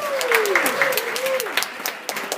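Audience applause for a performer at a live music concert, broad clapping noise running throughout with a tonal voice or instrument line gliding beneath it.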